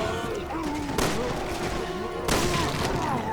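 Two bursts of rapid gunfire from Resident Evil 6 crackle loudly, one early and one later, over a busy backdrop with faint voices mixed in.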